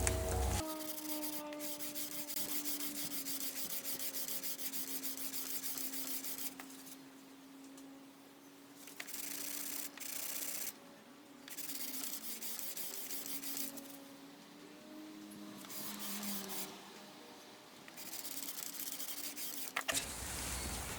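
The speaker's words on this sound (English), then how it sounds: "I put 120 grit on this cork block using the Crimson Guitars Luthier's trick" Sandpaper of 120 grit wrapped on a cork block rubs steadily along a guitar neck during carving, a close, continuous scratchy rasp in repeated strokes with a few brief pauses between passes.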